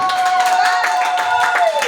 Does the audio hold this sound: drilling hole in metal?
no